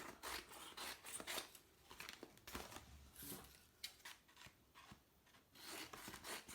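Scissors snip through the messy top or bottom edge of a paper weaving in a run of quick, close, rasping cuts with short pauses between them.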